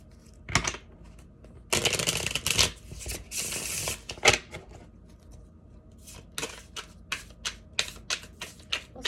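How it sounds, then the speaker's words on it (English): Tarot cards are shuffled in crisp, riffling bursts, with a long dense flurry in the middle and quicker, lighter snaps and taps toward the end, close up. "All right, let's get one more shuffle here."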